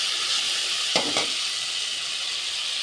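Hog plums fry in oil with whole cumin, a steady close sizzle with two quick stirring scrapes near the middle.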